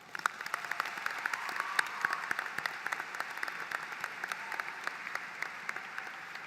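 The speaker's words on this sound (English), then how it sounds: "I think all of these awesome teachers deserve a round of applause" A graduation audience claps for high school teachers, a steady, fairly faint wash of many hands with distinct sharp claps standing out throughout.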